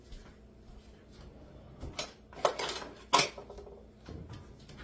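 Metal utensils clatter and knock as a spoon is picked up from a kitchen drawer while apple fritters are being made, a few sharp, close clinks and rattles over a quiet room.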